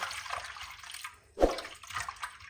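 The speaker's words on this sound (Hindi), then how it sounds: "अब यहाँ पे पानी डाल के एक दफ़ा इसको" Water poured over pieces of surmai (kingfish) to wash them for a fish curry, a steady running splash with one sharp louder gush midway, close by and without talk.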